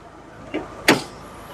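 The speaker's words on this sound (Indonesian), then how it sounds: "Oke, saya buka pintu." The door of a 2011 Hyundai Avega 1.5 GX manual car is opened, a soft click of the handle followed by a sharper latch clunk, brief and close.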